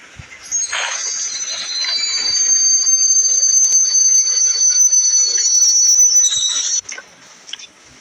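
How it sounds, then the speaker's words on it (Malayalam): A freight train in the video game Indian Bike Driving 3D rolls past with a loud, sustained high metallic squeal from the wheels over rumbling, fading out near the end. "ഇത് നമ്മുടെ ചരക്ക് വണ്ടി കേട്ടോ, ചരക്ക് വണ്ടിയാണ്"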